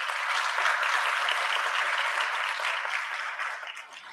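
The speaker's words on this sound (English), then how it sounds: "let's give them another round of applause" An audience at a manufacturing training program graduation ceremony applauds the graduating students, a dense, even wash of clapping that holds steady, then tapers off over the last second.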